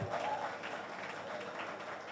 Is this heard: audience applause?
yes